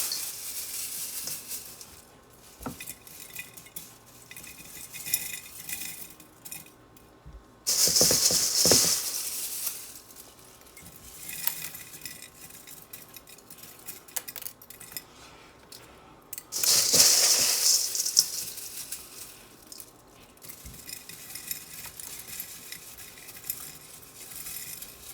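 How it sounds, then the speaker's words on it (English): Handfuls of dried onion pieces tossed into a container, two distinct rattling, pattering bursts of dry flakes landing several seconds apart, fairly close and crisp against a quiet background. "We are gonna throw some onions in there"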